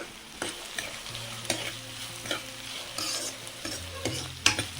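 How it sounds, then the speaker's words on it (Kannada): Red and yellow capsicum fry in a pan for pasta sauce, a quiet steady sizzle broken by intermittent scraping and stirring knocks of a utensil against the pan, with no voices. "ಇದೇ ಕ್ಯಾಪ್ಸಿಕಮ್ ಸ್ವಲ್ಪ ಫ್ರೈ ಆಗಿದೆ"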